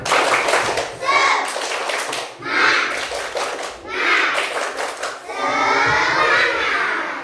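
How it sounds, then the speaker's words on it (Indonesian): A class of children does a rhythmic spirit clap, bursts of patterned hand claps alternating with shouted chanting voices, loud and close in a room, ending in a longer group shout. "Tepuk semangat"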